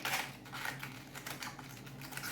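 Artichokes are cleaned by hand, their tough parts snapped and torn off in a quick series of close, crisp cracks and small crunchy clicks, with no voice over them.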